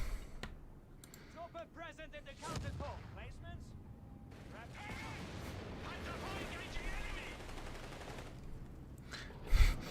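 Artillery barrage in Company of Heroes 3 during a tournament match: a dense run of booming explosions and rattling fire at moderate, steady loudness, with a heavier blast near the end, partly under commentator talk.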